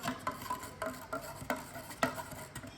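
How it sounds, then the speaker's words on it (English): Stirring a mixture in a reaction vessel during a Hess's law enthalpy-change experiment gives a steady run of light clinks and scrapes, about two a second, close and fairly quiet, with no voices. "Let's add Fa6 and stir the mixture until the maximum temperature is recorded."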